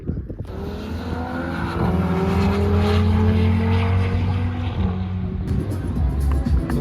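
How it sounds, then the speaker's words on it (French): A BMW M3 F80 and other cars roar past on a race track during a track day, the engine note swelling loudly, then dropping in pitch as a car passes close by. "On a des petites voitures qui passent, M3 F80."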